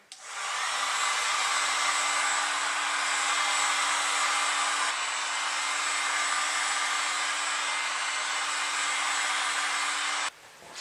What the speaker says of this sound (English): You could use a hairdryer for this